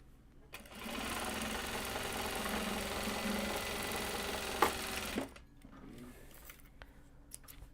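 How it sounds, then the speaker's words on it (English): A sewing machine winds a bobbin in a steady, close, high whir lasting several seconds, then spins down and stops, leaving near quiet. "There's the other bobbin wound up again."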